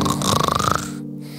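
Cartoon snoring in an animated Polish fairy tale about princesses, a single drawn-out rumbling snore that fills most of the clip and then trails off into quiet.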